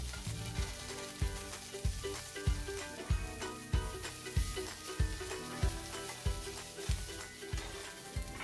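Shishito peppers blister and sizzle in a hot frying pan, a steady close frying hiss with regular soft thumps of stirring or tossing roughly every half second.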